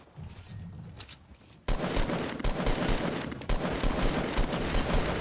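Rapid automatic gunfire in Fortnite, a sustained dense burst of shots that kicks in loudly after a quieter opening and keeps firing near and continuous to the end.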